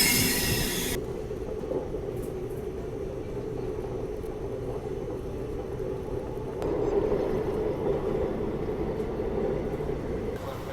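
Coimbatore Rajkot express train rolling along the rails, a steady loud rumble of wheels and carriages with rising intensity toward the end, heard continuously without talk.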